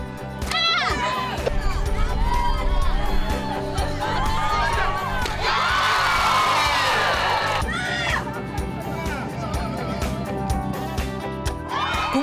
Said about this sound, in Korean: 관객들의 환호가 이어집니다.